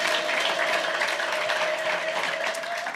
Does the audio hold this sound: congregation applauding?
yes